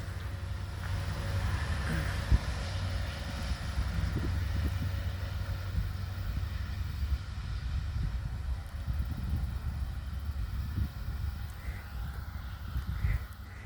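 A BNSF SD70ACe locomotive hauls an empty coal train of 153 cars past the town of Callao, Missouri, with a steady low rumble and rhythmic wheel clatter that hold at an even level throughout, and no talk.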